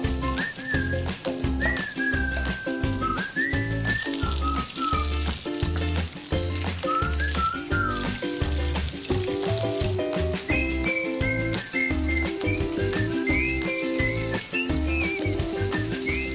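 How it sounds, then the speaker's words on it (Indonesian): Butter or margarine melting and sizzling in a hot pan while chicken in lemon sauce is being cooked, a steady close crackling hiss running throughout under rhythmic background music with a whistled melody and no talk. "sementara itu kita akan melelehkan mentega atau juga bisa menggunakan margarin ya"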